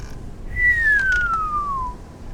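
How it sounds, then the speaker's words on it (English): A single long whistle gliding slowly downward in pitch, clear and fairly close, over a faint background hush. "An old man sitting on a rocker let out a long whistle."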